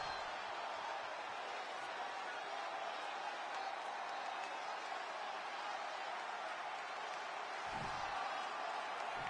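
Arena crowd in the WWE 2K wrestling video game, a steady broad roar of cheering that holds at an even level throughout with a brief thump near the end.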